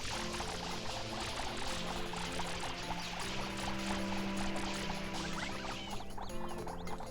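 FLUDD in Super Mario Sunshine sprays water in a continuous, steady rushing hiss that lasts throughout. Faint sustained game tones sit underneath.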